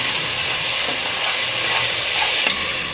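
Green chili and spice paste sizzles steadily in hot oil for a field-bean biryani, giving an even, close frying hiss with a few small pops and no voices.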